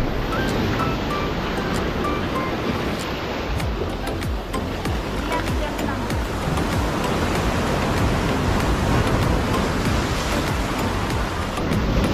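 Ocean waves at high tide break against a rock formation in a continuous loud surf roar, swelling and rolling close by with wind buffeting the microphone, and no voices.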